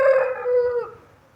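A fighting rooster gives one loud, close crow, strong at first and then trailing off, with no other sound around it.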